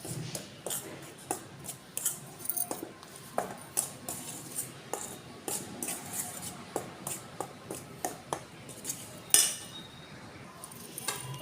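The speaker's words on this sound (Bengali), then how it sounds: "দিয়ে আমি আটাটা ভালো করে মিশিয়ে নেব।" Dry wheat flour and a quarter spoon of baking soda stirred in a bowl for tandoori roti, a steady run of light scraping taps and clinks from a spoon against the bowl, close and fairly quiet, with no one speaking.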